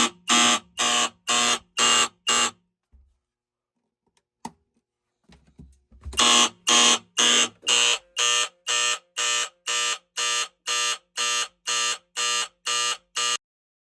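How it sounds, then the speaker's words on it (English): A fire alarm system under test on battery backup sounds a loud, steady series of evenly spaced electronic pulses, breaks off into near silence for a few seconds, then resumes the same regular beeping and keeps going to the end. "Fire alarm system test, but with battery backup."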